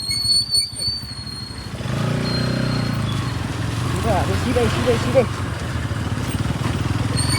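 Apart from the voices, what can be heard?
Bajaj Pulsar NS200 motorcycle riding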